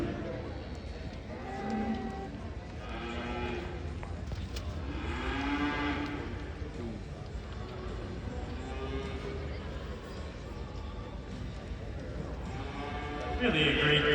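Hereford cattle at a national livestock show in Wisconsin low repeatedly, several drawn-out moos rising over a steady crowded arena hum, with another loud bellow near the end.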